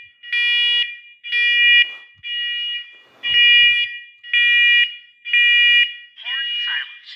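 A church smoke alarm sounds during a test with loud, shrill electronic beeps in a steady on-off pattern, six full bursts and a warbling seventh. Faint thumps fall between the beeps.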